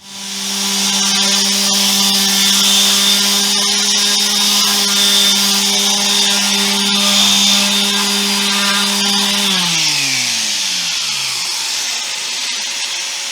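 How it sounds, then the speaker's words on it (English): A power sander at 80 grit works down the back of a guitar, a loud, steady high-pitched whine with a gritty rasp that winds down near the end. "I'm going all the way back to 80 grit, so I am definitely removing any lines that were there."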